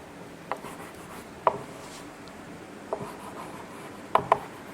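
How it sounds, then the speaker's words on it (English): Chalk writes answers on a classroom board, faint scratchy strokes with a few sharper taps at scattered moments over a quiet room, no speech. "I am going to write"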